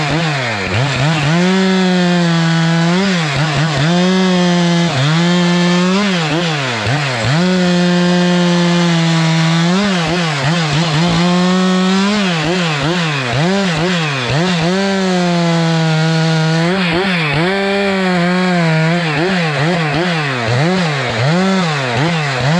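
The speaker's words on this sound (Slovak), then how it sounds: "Zarezal som to so svojou pílou" Chainsaw cutting wood beside a tractor tipped on its side, slipped into a ditch and caught on a root: a loud, continuous engine drone that rises and falls in pitch as it bogs into the cut and revs back up.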